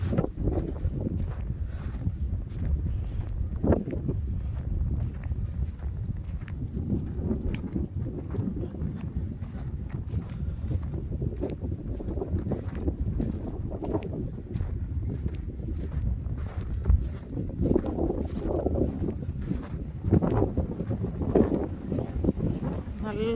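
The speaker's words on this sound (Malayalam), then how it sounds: "നല്ല കാറ്റാണ് കേട്ടോ." Strong blizzard wind on Long Island, New York, roars steadily into the microphone with buffeting gusts and low rumbling throughout, loud and continuous.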